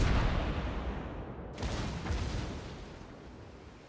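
A heavy cruiser Atago launches torpedoes in World of Warships on an ocean map, a loud low whooshing rumble that swells again midway into a second launch burst, then fades out.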